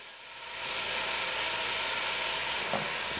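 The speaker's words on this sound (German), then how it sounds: "Das Lammfleisch brate ich jetzt richtig kräftig an" Lamb meat searing hard in a hot pan for a stew, giving a loud, steady sizzle and hiss that swells in the first moment and then holds evenly.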